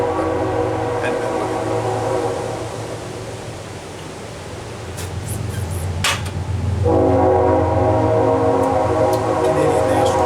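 A Canadian National Railway freight train rolls past with a steady low rumble of wheels and cars, its horn sounding in long sustained blasts that return louder near the end, with a voice briefly over it.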